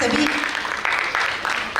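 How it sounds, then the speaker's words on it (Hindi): Audience applause for young performers at an on-stage cultural program, a steady wash of clapping from a crowd under a voice speaking over a microphone. "जोरदार तालियां हमारे सभी कलाकारों के लिए"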